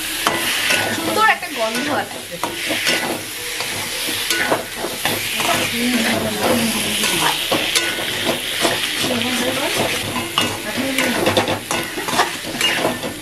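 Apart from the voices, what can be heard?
stirring and frying spices in a pan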